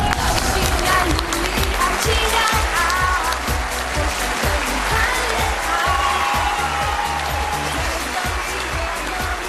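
A studio audience on a Chinese TV dating show claps in sustained, dense applause, steady and loud throughout, with a rhythmic musical beat underneath and a voice or two faintly present.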